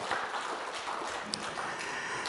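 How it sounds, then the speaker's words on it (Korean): A church congregation at a Sunday worship service claps together in steady, dense applause, a broad patter of many hands sustained throughout, with no voices on top. "우리 한번 큰 박수 격려합시다."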